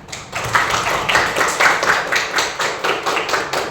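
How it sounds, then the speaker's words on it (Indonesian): Participants in a teacher training session clap their hands together in a lively, rhythmic burst of individual claps, fairly close and loud, continuing steadily with no talking. "Kita tepuk tangan."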